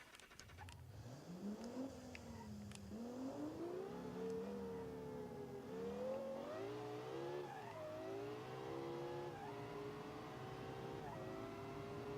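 A hippie bus with about 1,200 horsepower in the BeamNG Drive racing game revs its engine again and again, the pitch climbing and falling in waves, a steady engine note under faint background sound.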